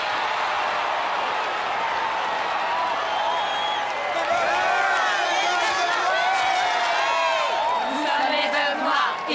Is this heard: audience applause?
yes